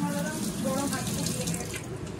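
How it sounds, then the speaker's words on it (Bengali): A kitchen water tap runs steadily while chicken and garlic are being prepared for cooking, a close, continuous broadband rush of flowing water with faint voices in the background. "এবার কলটা চলছে কেন, বন্ধ করে দেবো?"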